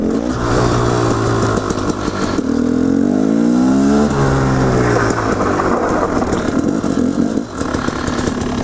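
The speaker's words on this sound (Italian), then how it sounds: "Quindi ora vi farò vedere qualche impennata, vi farò vedere come lavora bene." A motorcycle fitted with a Rekluse clutch revs hard through repeated wheelies, its loud, close engine climbing and falling in pitch without a break for the whole stretch.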